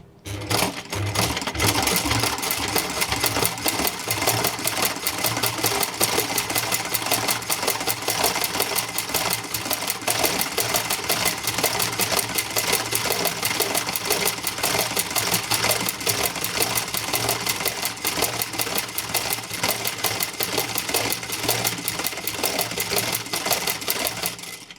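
A domestic sewing machine stitches Kerawang Baba Nyonya embroidery, a fast, steady mechanical rattle with rapid needle chatter, running continuously and close with no talk.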